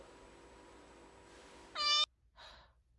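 A house cat gives one short, clear meow close by in a quiet room, followed by a soft breathy sound.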